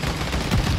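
Dense, rapid gunfire from a first-person shooter video game makes a brief, loud, continuous burst of shots that fills the whole moment.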